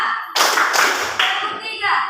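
A classroom of students clapping together on cue, a few sharp group claps in quick succession that land slightly out of sync, loud and close, with a teacher's voice between them.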